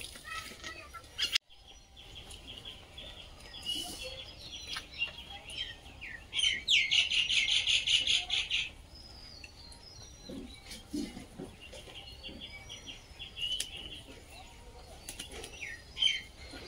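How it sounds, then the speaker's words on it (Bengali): A flock of pigeons feeding together outdoors, with soft wing flaps and scattered chirps, then a denser burst of fluttering and calls midway; quiet and somewhat distant. "পায়রাগুলো দেখো, কত পায়রা একসঙ্গে খাচ্ছে দেখো।"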